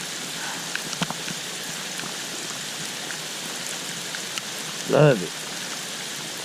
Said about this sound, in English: That's a hard rain right there.